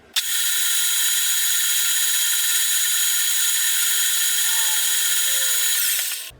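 A lathe drills a hollow point hole into a turned .357 bullet from the tailstock, a loud steady high-pitched metallic whine with dense tonal bands that holds for about six seconds before stopping.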